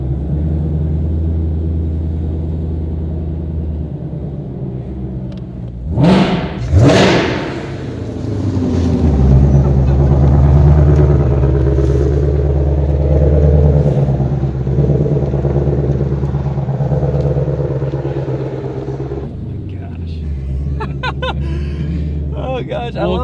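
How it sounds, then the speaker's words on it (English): A brand-new 2020 Shelby GT500 with a DCT transmission revs in the service department with both paddle shifters pulled, giving loud sharp blips followed by a sustained, throaty high-rpm drone, with someone talking over it. "You pull both paddle shifters and you can rev this thing."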